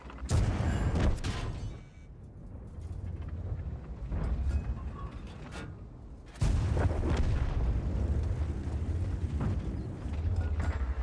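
Heavy booming Panther 8.8 tank cannon shots in a video game on the Lakeville map, with deep rumbling tails, one near the start and another around the middle, over continuous low engine-like rumble.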